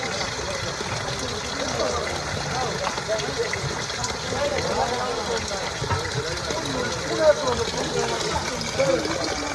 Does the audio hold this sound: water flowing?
yes